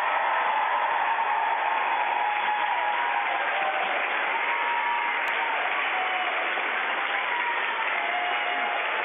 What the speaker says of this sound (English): Guys, I think Tim deserves a big cheer.